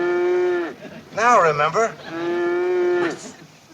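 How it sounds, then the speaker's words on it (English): A cow moos loudly inside a train car, two long drawn-out lowing calls separated by a brief spoken interjection. "Sounds like a cow's in there."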